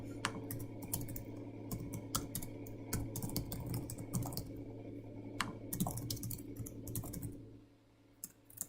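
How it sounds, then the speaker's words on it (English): Steady keyboard typing while writing an email inside a CRM system, a continuous run of quick soft key clicks at close range over a low hum, thinning out near the end. "Okay, we just type out this message."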